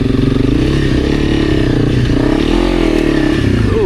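Off-road motorcycle ridden on a training course, its engine droning loud and steady with rising and falling revs throughout, close up, with no talk.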